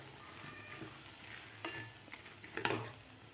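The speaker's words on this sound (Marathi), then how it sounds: "कोथिंबीर घातल्यानंतर परत एकदा आपल्याला याला हलवून घ्यायचं आहे।" Moong dal with chopped coriander being stirred in a pan for a dry moong dish, with quiet scraping strokes and a faint background sizzle, close up and without talk.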